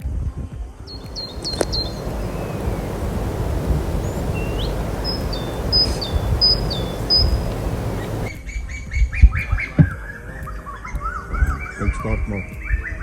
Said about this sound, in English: You can hear the beautiful bird sounds early in the morning